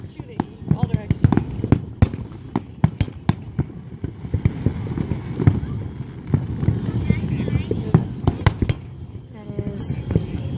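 Independence Day fireworks bursting in rapid succession, sharp cracks and booms firing in many directions with dense overlapping pops throughout, people talking in the background.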